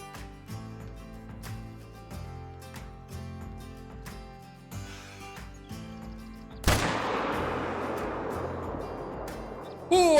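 A single sharp rifle shot rings out at a buck while hunting on the Rancho del Arroyo map in Call of the Wild, over quiet background music. The loud crack decays into a long, rolling echo.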